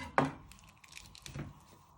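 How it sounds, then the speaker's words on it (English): A sharp knife chops the end off a cucumber on a cutting board with one crisp, close thud, followed by faint light handling noises. "Then you chop your end off your cucumber using your"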